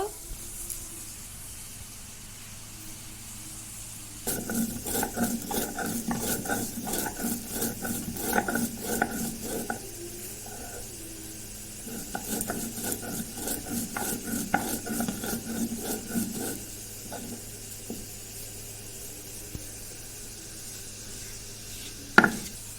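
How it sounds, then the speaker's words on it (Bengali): Rapid rhythmic grinding or pounding of roasted spices in bursts, a busy rasping churn that runs several seconds, pauses, then resumes, with a sharp knock at the end. "আপেলটা সেদ্ধ হতে হতে ভাজা মশলাটা গুঁড়ো করে নেব।"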